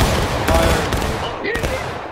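A musket volley rings out in a War of Rights battle at Little Round Top, with dense overlapping gunshots in loud bursts across the moment and voices in the background.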